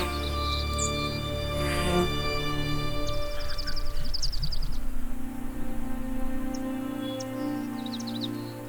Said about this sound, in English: listen to soothing birds singing